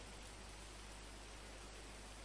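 Steady rain falling on a wet, grey day at a mechanic's funeral, a continuous even hiss of drops with no voices, filling the whole stretch at a low level.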